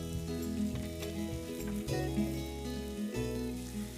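Steak sears in a hot pan, a steady, close crackling sizzle that holds evenly throughout with no talking.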